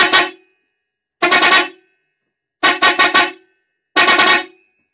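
Four loud, brassy blasts from a Mitsuba long-trumpet vehicle horn repeat at steady intervals, each about half a second long with a slightly pulsing, trumpet-like tone.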